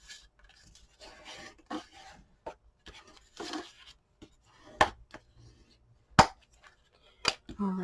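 Paper pieces for a spring mini album are burnished by hand: soft scratchy rubbing strokes come in short bursts close by, with a few sharp clicks and taps, and no talk over them.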